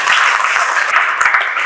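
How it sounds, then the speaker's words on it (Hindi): Audience at a memorial gathering bursts into loud, dense applause, many hands clapping steadily throughout without pause. "एक जोर की ताली दिनेश तंवर जी के लिए भी बजी।"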